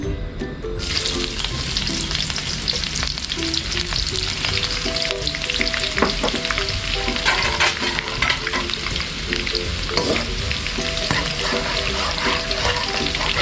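Shallots frying in hot oil, a continuous loud sizzle with stirring that persists steadily throughout, starting right after they go into the pan.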